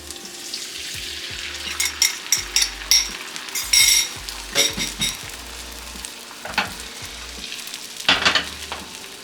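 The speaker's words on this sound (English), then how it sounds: "we're going to go ahead and add our egg mixture in here" Beaten egg mixture hitting a pan with mushrooms over lowered heat, a soft frying hiss broken by bursts of sizzle, spatula scrapes and light clinks of utensils, no talking.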